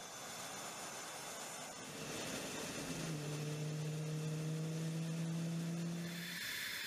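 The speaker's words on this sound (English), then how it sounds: "Crew chiefs and pilots work together to get the fighter started up in the quickest possible time." Distant hiss of a US fighter jet as its engine starts, rising into a steady whining tone partway through that sustains before fading, with no talking.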